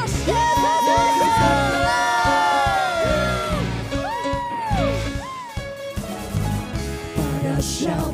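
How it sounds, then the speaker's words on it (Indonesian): A church congregation in Semarang cheers and shouts for Jesus during worship, a loud sustained mass of whoops, yells and high voices swelling and fading in waves over several seconds. "Sorakan Yesus dahsyat"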